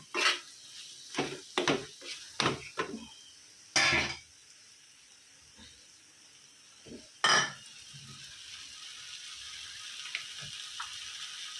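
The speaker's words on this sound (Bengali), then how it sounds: "মাছের সর্ষে ফর্ষে সব দিয়ে দিয়েছি, ধনে গুঁড়ো, জিরে গুঁড়ো, আদা, রসুন, পেঁয়াজ সব দিয়ে আমি কষিয়ে নিচ্ছি" Rohu fish with mustard, coriander, cumin, ginger, garlic and onion is stirred in a pan, giving several sharp metal scrapes and clinks of a spoon in bursts between quiet stretches, with a faint sizzle underneath.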